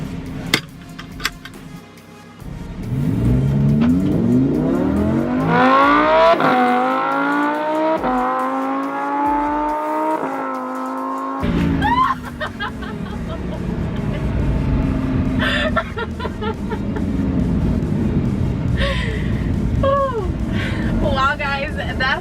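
A 2015 Lamborghini Huracan LP 610-4 rolls into a launch and accelerates hard through several gears, its loud close engine rising in pitch with each gear and dropping at each shift, with a person talking over it.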